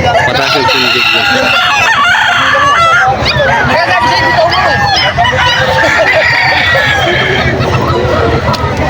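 Kelso gamecock roosters crowing repeatedly at a busy Bocaue pet market, several loud overlapping cock-a-doodle-doos and clucks over a dense crowd din with people talking nearby.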